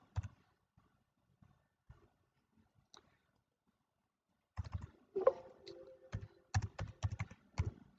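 A computer keyboard is typed on to enter a command in Matlab. Near silence gives way to a brisk, close burst of clicking keystrokes during the last few seconds.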